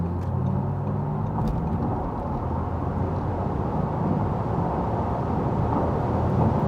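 An Audi RS e-tron GT electric sports car accelerates hard from 90 km/h, heard from inside as a steady, loud rush of road and wind noise with a faint electric whine and no talking.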